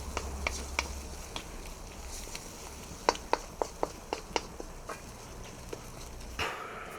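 Tomato puree sizzling and frying in a kadai over a live fire for chicken curry, a steady close hiss broken by sharp spoon scrapes and clicks as it is stirred.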